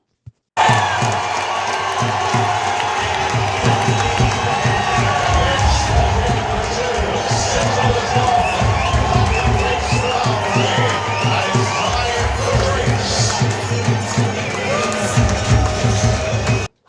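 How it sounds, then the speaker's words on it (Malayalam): A packed stadium crowd at an India vs Pakistan T20 cricket match roars continuously, loud and close, with cheering, whoops and shouting voices blending into one dense wall of sound. "അവിടുത്തെ ഒരു ആരവം എന്ന് പറയുന്നത് അത് ഒരു ഭയങ്കര സൂപ്പർ ആയിരുന്നേ"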